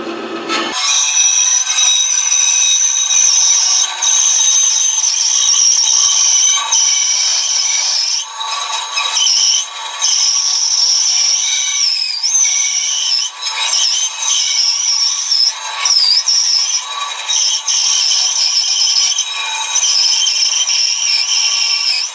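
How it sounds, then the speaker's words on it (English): Bandsaw cutting a circle from a green wooden bowl blank fresh from a tree, a steady high-pitched whine with scraping friction throughout, close and loud with no talk. "that'll let me just go on the bandsaw and get sort of a circle out of this"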